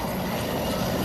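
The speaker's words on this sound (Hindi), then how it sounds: "आसमान पर वायुसेना का MI-17 हेलीकॉप्टर आता है।" An Air Force MI-17 helicopter arrives overhead during a flood rescue, its engine and rotor making a steady, loud, dense rumble that fills the whole moment with no voices.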